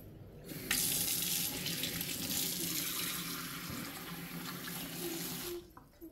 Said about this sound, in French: Il faut tout simplement mettre de l'eau chaude ici.